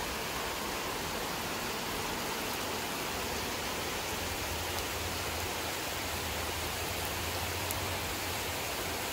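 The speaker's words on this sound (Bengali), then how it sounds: "প্রচণ্ড বৃষ্টি।" Heavy rain falls over a garden as a dense, even roar of noise that holds steady and loud throughout, with no voices.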